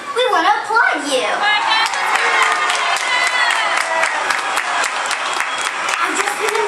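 A crowd at a children's birthday celebration claps and cheers loudly for the birthday kids, steady applause with scattered shouts, opening with a voice speaking briefly over it.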